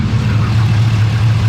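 A 5.3 liter car engine idles close by with a loud, steady low rumble and no talking over it.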